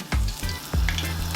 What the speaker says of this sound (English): I'm gonna go ahead now and fry the fish